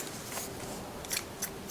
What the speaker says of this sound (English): Okay, and then I go back and I cut these strands.